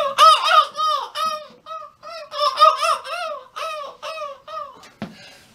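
A voice imitates a seagull approaching from afar, with a series of rising, wavering squealing cries in bursts, loud and close, ending in a short sharp knock.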